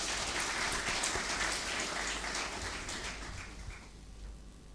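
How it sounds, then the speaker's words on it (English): Steady applause from a graduation ceremony crowd at the Army War College Nigeria, honoring the Commandant; a continuous, rain-like patter of clapping at moderate distance that slowly fades. "May we please give the Commandant, Army War College Nigeria, another round of applause."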